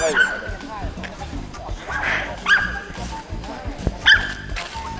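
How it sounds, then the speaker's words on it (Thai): A dog barks and yips in short bursts at a Thai tent campground that allows pets, with people talking over it and the barks standing out a few times. "เอาไม่ต้องเห่าพี่ได้ไหมอ่ะ"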